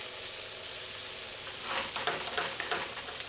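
Sloppy joe mixture sautés in a pan on a stovetop set to low, giving a steady soft sizzle with light stirring scrapes in the second half, close and alone without talk.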